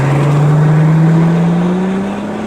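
A Plymouth Prowler pulls away briskly, its engine note a steady low hum with a faint harmonic climbing gradually in pitch, loud and close at first and easing off near the end, with no voices.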